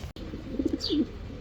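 Soft, low coos from fancy pigeons at a breeding farm in Natore, a few short murmuring notes close by, with a faint higher chirp and light background noise.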